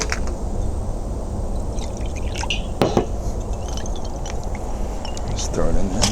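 A baking soda solution is rinsed out and poured into a bucket, a steady splashing, trickling stream with a few drips and glassy clinks, while someone talks throughout.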